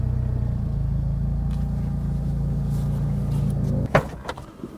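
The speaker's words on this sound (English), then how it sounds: "let's get the car in the garage" A Smart 450 car rolls into a workshop garage, its engine giving a steady low rumble close by, ending in a sharp clunk and a few knocks, likely a door shutting.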